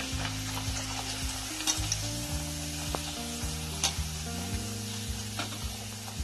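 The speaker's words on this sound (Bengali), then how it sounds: "সাদা তেলটা গরম হয়ে গেছে। একটা একটা করে কচুরিগুলো ছেড়ে দেব। হালকা লাল করে ভেজে নেব আমি।" Green pea kachoris sizzle steadily in hot white oil in a kadai, a continuous close frying hiss with faint pops and stirring sounds and no talk.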